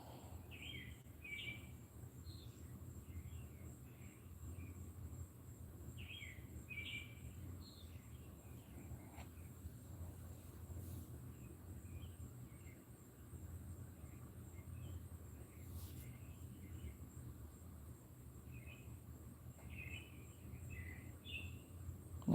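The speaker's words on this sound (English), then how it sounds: "Tweety birds are waking up." Small birds chirp at dawn in scattered short bursts, faint and distant over a steady low hum and insect-like drone, with no talking.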